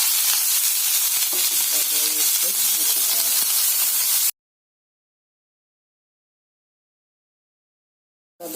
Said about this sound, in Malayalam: സബോള വെച്ച് എണ്ണ ചൂടായി കടുകുത്തി